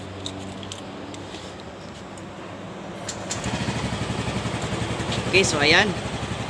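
A Yamaha Mio Gravis scooter with a side stand switch fault is started, its engine catching partway through and settling into a close, steady idle chug, with someone talking over it.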